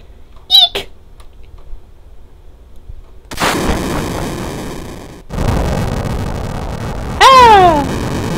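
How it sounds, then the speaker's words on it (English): Fire spell effect from the video game Final Fantasy VII, heard as loud roaring whooshes that surge and cut off in stages, ending on a rising and falling cry, after a short high squeak and a quiet stretch. "Nice fire effect."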